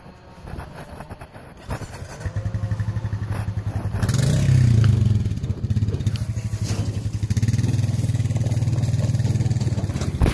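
Running near a tree-felling job, an ATV engine gives a pulsing low chug that climbs into a louder, throbbing rev partway through and then settles back to a rough, steady drone.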